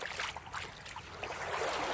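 Small waves lap and wash along the Lake Erie beach shoreline, a soft, continuous watery swish with gentle surges, quiet and close, with no voices.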